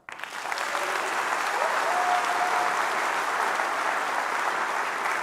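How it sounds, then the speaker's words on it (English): A faculty audience at a district meeting breaks into steady, full-room clapping that holds evenly for several seconds, moderately distant and without speech. "If you believe that, I want you to clap."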